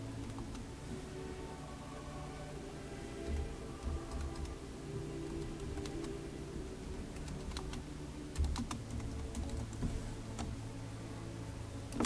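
Rapid typing on a computer keyboard, close and clear: a steady run of light key clicks with brief pauses and a few heavier keystrokes, with no voice.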